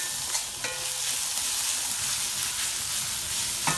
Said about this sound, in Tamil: ஒரு 2 நிமிஷத்துக்குள்ளேயே வெங்காயம் எல்லாம் நல்லா வதங்கி நல்லா கருக தொடங்கி இந்த ப்ரௌனாக தொடங்கிடும்